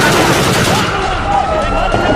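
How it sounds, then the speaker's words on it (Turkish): Rapid gunshots crack out during a street clash between two groups, loud and dense, buried in crowd shouting and chaotic noise at close range. "silah sesleri"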